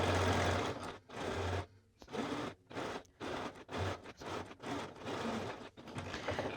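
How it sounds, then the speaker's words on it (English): Sewing machine straight-stitching down the middle of cotton twill tape, close and clear, running in short bursts of rapid whirring stitches separated by brief pauses, with no talking. "I'm just going to be sewing with a straight stitch right in the middle of that twill tape."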